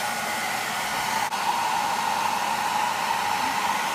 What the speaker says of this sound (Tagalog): i-blower ko lang yung mga brushes and yung sponge.